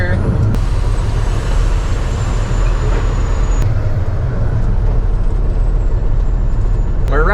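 A truck pulls into a sugar beet piler during harvest season, its engine a loud, steady low drone heard from inside the cab, with brief sharp hisses at a few moments.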